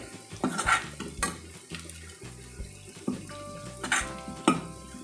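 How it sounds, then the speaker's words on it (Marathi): Garlic with asafoetida fries in a pan for a sea fenugreek bhaji, with a close sizzle, sharp spoon-on-pan scrapes and clinks, and some faint tonal background sound. "लसूण हा छान असा परतवून घ्यायचा आहे"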